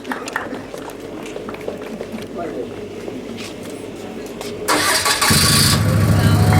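A portable fire pump engine cranks and catches at a fire station opening, roaring into a loud, steady run after a stretch of crowd chatter and talk.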